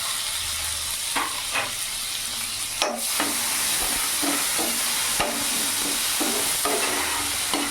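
A whole large tomato sizzles in a pan of browned fried onions, a steady close frying hiss broken by scattered clicks and scrapes of stirring.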